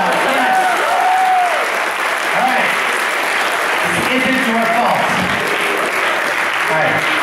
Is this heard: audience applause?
yes